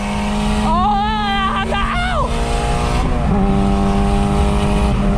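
A tuned BMW 440i accelerates hard through its gears in a 0-60 run, loud and close, with rising engine harmonics and quick shifts under excited talking.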